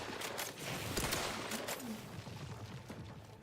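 Video game gunfire in Outer Worlds 2, a fairly faint, rapid burst of shots over a noisy game soundscape.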